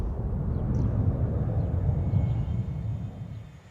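Embraer 195 airliner arriving in the SimAirport game, a steady low jet rumble rising slightly then fading away toward the end, heard alone without talk.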